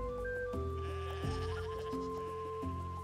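Goats in the farming game Roots of Pacha bleat in a few wavering cries over a soft, sustained musical backdrop, moderately quiet.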